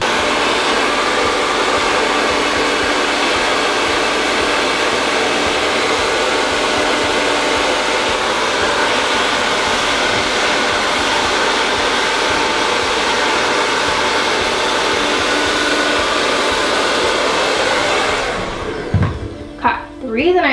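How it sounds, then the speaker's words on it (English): Hair dryer blowing close to hair during an at-home salon-style blowout, a loud steady whooshing roar lasting most of the time before it cuts off near the end, followed by a brief moment of handling. "Going to blow dry as close to my hair as possible."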